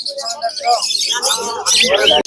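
Young myna chicks chirp in quick, high bursts at a busy bird market, with bargaining voices and other birds close by throughout.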